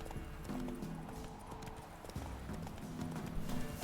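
Hooves of Roach, a horse in The Witcher, clip-clop in a quick galloping rhythm with a brief whinny, faint and close beneath a quiet voice.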